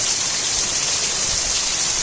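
Heavy pre-monsoon rain on the Konkan seaside comes down as a steady, dense broadband hiss, continuous and even throughout with no voices.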